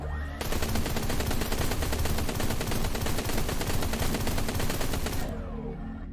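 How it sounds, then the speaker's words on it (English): Rapid, unbroken automatic fire from the Decimator weapon in the space shooter game Everspace 2 runs for about five seconds as a loud, dense rattle, then cuts off abruptly. "So this is the repeater. And this is the decimator."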